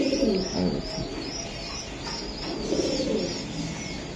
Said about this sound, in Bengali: আমি দেখাই কবুতরগুলা, খুবই সুন্দর কবুতর